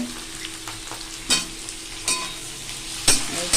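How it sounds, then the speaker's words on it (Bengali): Onions and potatoes fry in a pan with a steady hiss, broken by a few sharp scraping stirs of a spatula, close and fairly loud with no talking. "পেঁয়াজটা ভাজা হয়ে গেছে, আলুটাও ভাজা হয়ে যা।"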